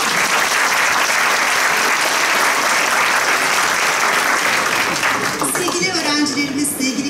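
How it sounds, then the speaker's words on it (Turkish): An audience at a middle school graduation ceremony claps in loud, dense, sustained applause, easing off in the last second or two as voices begin to come through. "Tüm alkışlar sizinle."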